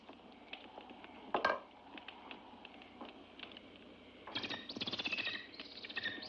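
A bird chirps and tweets in scattered short calls over a low background, with a louder burst of rapid trilling chirps near the end and a brief clatter early on; no one speaks.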